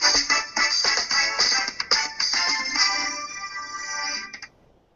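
A phone rings during a podcast recording, a loud bright electronic ringtone repeating in quick pulses for about four seconds before cutting off.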